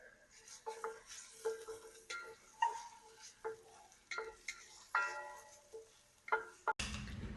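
A spoon scrapes and clinks against a pan of cooking onion in irregular strokes over a faint sizzle, ending with a short burst of loud hissing.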